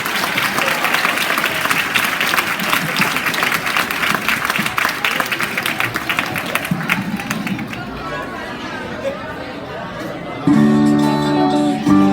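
An audience claps at a children's Christmas show, a loud dense ovation that fades after about eight seconds before a different sound cuts in near the end.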